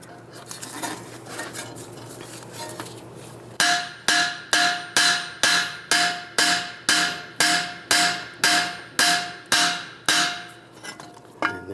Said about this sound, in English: Now holding the knuckle, you can pull it out a little bit, tap it down.